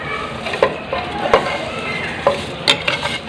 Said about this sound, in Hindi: इसमें हम सेवइयाँ जो फ्राई की हुई हैं वो शामिल कर देंगे